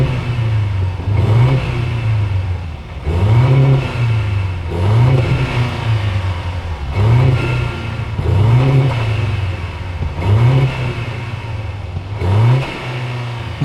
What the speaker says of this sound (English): we're gonna rev it right now,